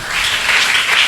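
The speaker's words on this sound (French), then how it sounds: "Est-ce qu'on peut acclamer?" A church congregation breaks into loud applause, a close wash of many hands clapping together for about a second.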